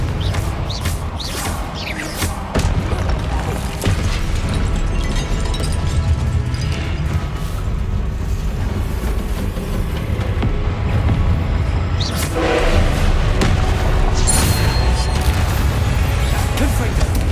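Repeated Confringo spell blasts in Hogwarts Legacy, bursts of fiery explosions and whooshes recurring over a loud, continuous bed of combat noise.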